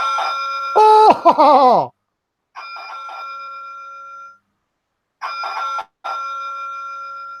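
A bell on a classic Routemaster bus model, rung by pulling the cord, gives two close, clear ringing tones, each held and then cut off after a short gap, following a brief exclamation.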